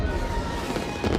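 Fireworks from the Return of the Jedi finale celebration, a dense run of crackling pops and bursts that keeps up steadily and then swells louder near the end, with no speech over them.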